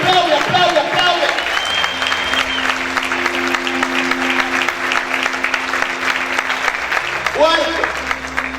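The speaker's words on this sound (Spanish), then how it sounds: "Vamos a aplaudir fuerte al Señor en esta hora." A church congregation claps loudly for the Lord during a worship service. The applause is continuous and dense, with voices and sustained musical tones underneath.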